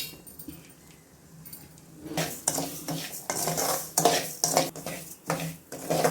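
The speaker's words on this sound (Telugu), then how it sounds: "ఇప్పుడు దీన్ని వేపుకోవాలి నెయ్యిలో మంచిగా." Wheat rava roasts in ghee in a pan while a metal spoon stirs and scrapes it in quick rhythmic strokes. The clatter starts after a quiet moment and carries on close up.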